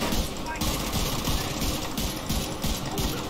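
Rapid automatic gunfire in the shooter game The Division 2, dense bursts of shots repeating in quick succession, loud and up front, with a player's voice talking over the action.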